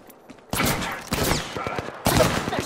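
Apex Legends gunfire erupts after a quiet start: sharp, loud volleys of rapid shots in two main bursts, close and punchy, with brief pauses between them.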